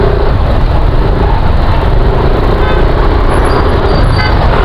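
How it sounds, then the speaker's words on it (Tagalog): Road traffic in Bacoor, recorded on an action camera: a steady, loud roadway rumble of engines and tyres fills the whole stretch, with a few faint horn toots near the end. "Inaabot na tayo ng traffic sa Bacoor."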